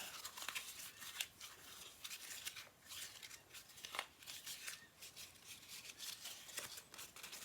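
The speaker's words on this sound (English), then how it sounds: "And I'm just going to crumple it." Sheets of cardstock are crumpled by hand in a series of quiet, close crinkling crunches and crackles, with no talk.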